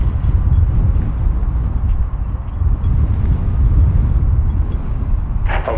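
Wind gusts steadily across an open airport ramp while an Airbus A321 moves into position at DFW International Airport, a loud continuous low rumble and roar buffeting the microphone throughout.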